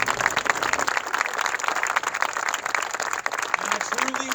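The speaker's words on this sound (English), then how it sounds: "So let's give him a round of applause." A crowd applauds Congressman Forbes at a Republican primary victory event, dense clapping with some cheering and voices mixed in, holding steady and fairly loud throughout.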